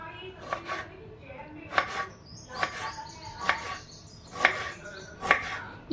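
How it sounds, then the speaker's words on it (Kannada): A knife chops a tomato into small pieces on a board, a close, steady run of sharp chopping hits about once per second, with no talk. "ಹಾಗೆ ಒಂದು ಟಮಾಟವನ್ನು ಚಿಕ್ಕದಾಗಿ ಕಟ್ ಮಾಡ್ಕೊತಾ ಇದ್ದೀನಿ."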